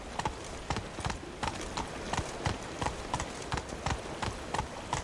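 Roach the horse's hooves clip-clop in a steady walking rhythm through The Witcher 3: Blood and Wine, the regular, fairly close footfalls continuing for the whole stretch with no voices.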